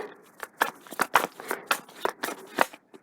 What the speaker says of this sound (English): this is a pile for you, and I'm just gonna shuffle